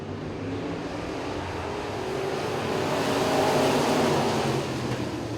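Modified street race cars roar around a raceway in a steady, loud engine drone that swells slightly as they pass close by.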